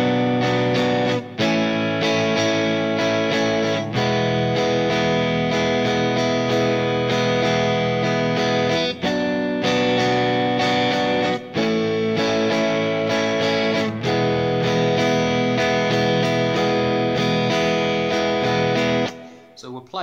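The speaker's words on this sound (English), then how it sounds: "And your strumming pattern sounds like this." Electric guitar strumming the chord pattern of a song, loud and continuous with steady, slow repeated strums and brief gaps between chord changes.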